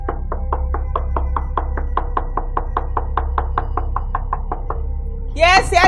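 Rapid, evenly spaced knocking on a locked door, roughly two dozen firm raps over several seconds, close and loud, followed by a brief voice at the end.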